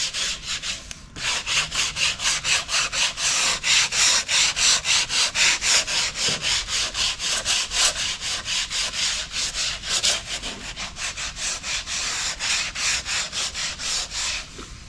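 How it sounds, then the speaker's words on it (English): Hand sanding of fiberglass with coarse 40 grit sandpaper over big ridges: fast, even back-and-forth rasping strokes, loud and close, running continuously after a brief pause at the start. "This is some 40 grit, which is pretty aggressive, but we've got some pretty big ridges here."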